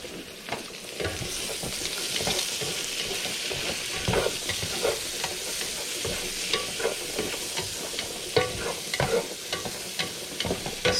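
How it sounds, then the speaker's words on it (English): Onions and mushrooms fry in rendered bacon fat in a pan, a steady close sizzle broken by frequent scraping stir strokes, with no voices. "So we are gonna add our onions and mushrooms."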